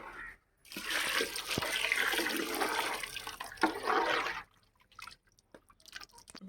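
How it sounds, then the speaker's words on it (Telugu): Water gushes steadily for a few seconds into a pot of tamarind fish curry, pauses briefly, then pours again before trailing off into drips and small splashes. "నీళ్ళు వేయాలనుకుంటా కొన్ని"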